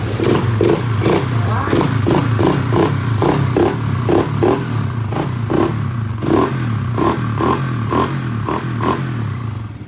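A Raider FI motorcycle with a freshly repaired ECU starts up, its engine settling into a loud, close, rapid idle with rhythmic pulsing clatter that runs throughout.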